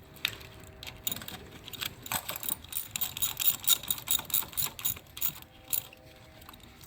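A 3/8-inch ratchet snugs the valve cover bolts on a 2013-2016 Dodge Dart, giving bursts of quick, close metallic clicking with short pauses between runs and no talking.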